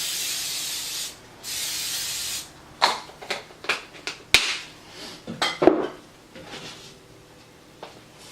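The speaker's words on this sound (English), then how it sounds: "I'm just going to add in my coconut spray." A coconut oil cooking spray can hisses steadily in two long bursts, followed by a scatter of clinks, taps and short spray puffs nearby.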